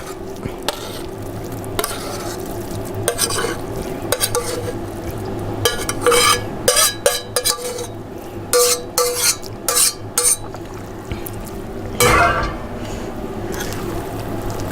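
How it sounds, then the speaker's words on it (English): Corn is stirred into a creamy cornbread batter, with wet squelching strokes and several sharp clinks of a utensil against the bowl, close and fairly quiet. "Now we mix in our corn."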